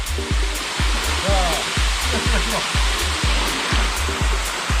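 Waterfall in a mountain valley at Twelve Falls in Geumsan, a loud continuous rush of falling water with regular faint knocks and brief voices beneath the roar.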